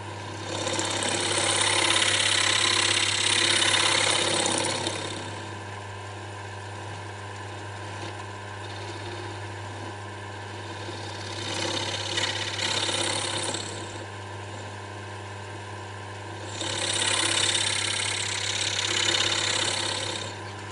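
A scraper cuts a thin-walled square wooden bowl on a spinning wood lathe. Three loud, hissing cutting passes rise over the machine's steady motor hum, with quieter stretches of plain humming between them.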